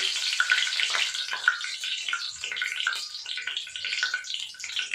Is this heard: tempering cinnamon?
yes